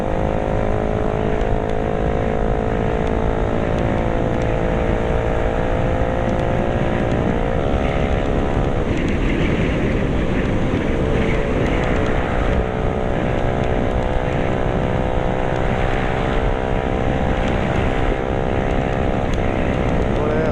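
A motorbike engine droning steadily while riding, loud and continuous with wind rush, the pitch rising and falling slightly with speed.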